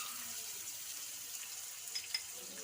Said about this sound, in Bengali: এই তেলের মধ্যেই আদা রসুন আমি পেস্ট করে রেখেছি সেটা দিয়ে দিচ্ছি